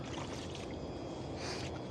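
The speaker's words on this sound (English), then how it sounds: "So, there's a boat motoring in" A motorboat motors in across the Oakland Estuary, heard from a rowing boat as a steady, faint hum mixed with water washing and trickling close by, with no talking.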